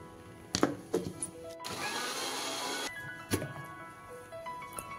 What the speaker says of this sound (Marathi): आता आपण हे मिक्सरला वाटून घेऊ, म्हणजे पूर्ण एकजीव होता आपले बॅटर